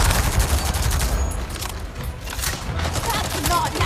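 A grenade blast and gunfire ring out in the Avatar: Frontiers of Pandora video game: a dense, loud stretch of booming and rattling combat noise with bursts of shots, up close and continuous.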